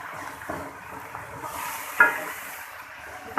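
Minced meat with peas stirred and frying in a pan, a steady soft sizzle with scraping stirs at intervals and a couple of sharper clinks, no talk.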